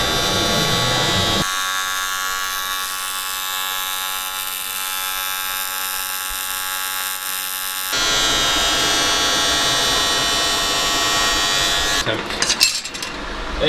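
An aluminium alloy wheel being welded gives a steady, loud, close electric buzz that holds for several seconds, breaks off and restarts, ending in a burst of crackle.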